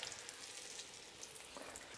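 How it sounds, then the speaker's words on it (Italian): Butter frying in a pan in a home kitchen, a dense, steady sizzle with faint crackles and pops throughout, close and continuous, with no talking. "ma mi sa che qua si sta friggendo."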